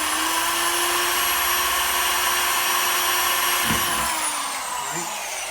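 A small hole is drilled for the shifter cable while building a 1979 Malibu race car: a steady, loud, whining power-tool drone holds throughout, with a brief bump near the end as the bit finishes and the pitch drops away.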